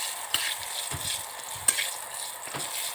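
Spices crackle and fry in hot oil as tempering for an Assamese dish, a soft sizzle broken by sharp pops and spoon stirring at close range, with no talk.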